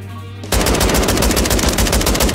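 A fully automatic shotgun fires in Call of Duty: Modern Warfare 3. After a brief quiet start, it erupts into a loud, close, rapid stream of evenly spaced blasts that continues without pause to the end.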